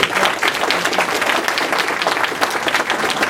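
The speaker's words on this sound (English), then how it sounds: "How about another round of applause?" An audience breaks into sustained applause, dense clapping from a sizable crowd holding steady and fairly loud throughout.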